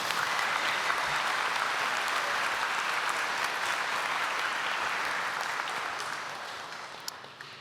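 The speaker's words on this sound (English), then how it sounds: "Let's give them a huge round of applause." Full audience applause fills a chapel at a university graduation ceremony, dense and steady for several seconds before tapering slightly at the end.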